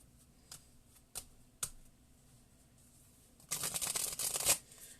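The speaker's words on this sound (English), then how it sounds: "So I'm going to shuffle these one more time." A few soft taps and riffles of new tarot cards, then a denser rustling burst of them being shuffled near the end, close and fairly quiet.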